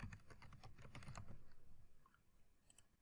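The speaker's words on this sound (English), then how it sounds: "So I'll type" Rapid keystrokes on a computer keyboard, a close run of clicks for about two seconds that thins to a few scattered taps and quiet.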